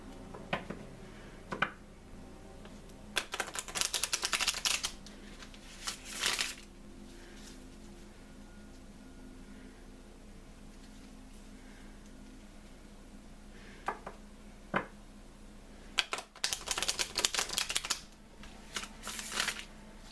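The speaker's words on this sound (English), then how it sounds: "So now I'm going to pull some oracle cards." Oracle cards shuffled by hand in several short bursts of riffling and flicking, quiet and close, separated by pauses with a faint background hum and no talking.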